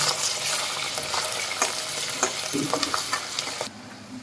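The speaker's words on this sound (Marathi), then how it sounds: "ही चरबीसुद्धा मी शिजून धुवून घेतलेली आहे तर ही तेलामध्ये परतून घ्यायची" Mutton fat, cooked and washed beforehand, frying in hot oil for a spicy mutton rassa, giving a steady loud sizzle with scraping stirring strokes throughout before the sizzle drops abruptly near the end.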